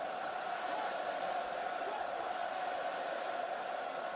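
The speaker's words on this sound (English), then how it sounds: "First grand cries of support from the crowd" Rugby crowd at a France v Wales match, a steady broad roar of distant cheering and shouts of support filling the stadium without a break.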